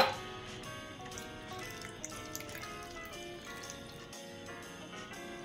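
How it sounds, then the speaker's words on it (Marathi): Water poured a little at a time into besan batter for bread pakoda in a kitchen, a soft trickling splash over a faint background hum, gentle and close. "थोडं थोडं पाणी टाकत आपण याचं बॅटर करून"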